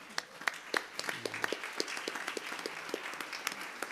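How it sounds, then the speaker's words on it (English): A general assembly audience claps in a steady patter of scattered individual hand claps, moderately distant, continuing without a break for several seconds with no talk over it. "And let's clap for Talita Kum."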